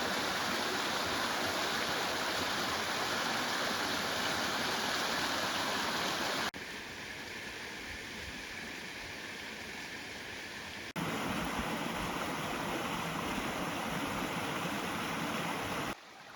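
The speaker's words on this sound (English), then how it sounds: "There's a little waterfall, and it's kind of a nice spot if you wanted to like cool off your feet or even go for a swim." A small waterfall beside Buck Lake at Frontenac pours steadily, a loud, continuous rush of falling water heard up close with no voices, its level dipping partway through before returning to full strength.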